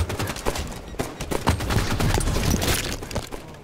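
Rapid gunfire in Halo 5 custom-game match, dense volleys of close shots cracking over each other for several seconds, loud and chaotic.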